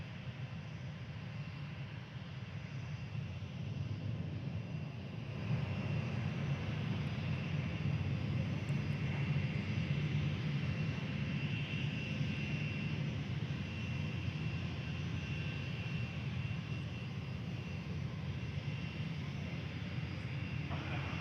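A fixed-wing airliner's engines hum steadily at an airport as it lines up on runway 03, a continuous low drone that swells slightly partway through, with faint radio chatter underneath.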